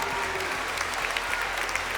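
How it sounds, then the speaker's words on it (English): Audience applause after a contestant is eliminated in a singing competition finale in London, continuous even clapping from a crowd with a low hum underneath. "Round of applause."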